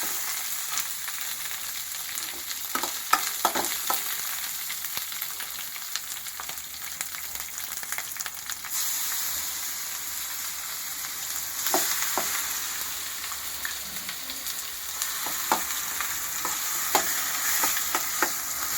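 Oil tempering sizzles for a mixed vegetable chutney, a steady hiss in a pan broken by sharp clinks and scrapes of stirring, with no voices present.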